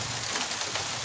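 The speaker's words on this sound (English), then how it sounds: "now the rain is fall" Steady rain falling hard on a cold afternoon, a dense continuous hiss that fills the whole moment at an even level, with no voices over it.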